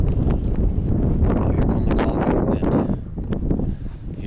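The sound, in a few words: Colorado wind blowing into the microphone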